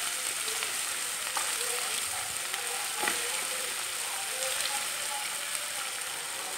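Green chili pieces fry in a pan for an egg curry with a steady, loud, hissing sizzle that fills the whole clip. Faint scraping stirs come through underneath.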